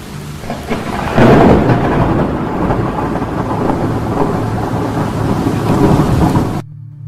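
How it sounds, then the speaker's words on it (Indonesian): Loud rolling thunder rumbles over steady pouring rain, the deep roar swelling early and then fading into continuous rainfall. "Tiba-tiba muncul gerimis yang diikuti suara dan kilatan petir."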